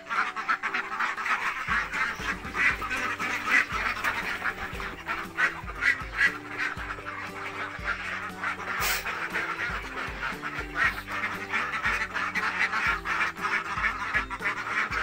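Many ducks quack loudly and continuously, overlapping calls from a nearby flock with no talking.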